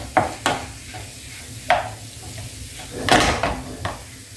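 Spiced food being stirred in a pan with oregano and cumin, giving a few scattered scrapes and knocks of a utensil against the pan, moderately close, with quiet gaps between them.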